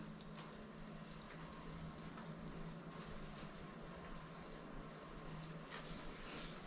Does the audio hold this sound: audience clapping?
no